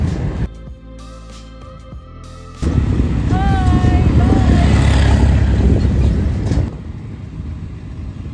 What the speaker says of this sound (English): So now we're on the tractor that's headed back toward the entrance area